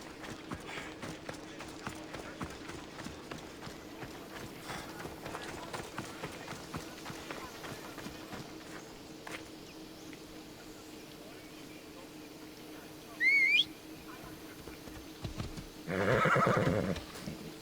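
A horse in Assassin's Creed Odyssey runs with a faint, steady hoof rhythm, then gives a short neigh near the end, with a louder burst just after it, all set against quiet game ambience.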